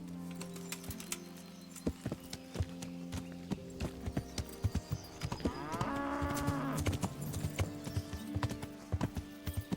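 Horse hooves clip-clop in Kingdom Come: Deliverance, a steady sharp beat of hoofsteps on a hard surface, with a cow lowing in the middle over soft ambient background.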